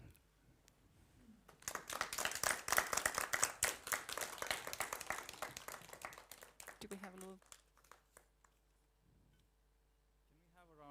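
A room of people applauds, a dense burst of clapping that swells and then thins out, with faint voices murmuring as it fades.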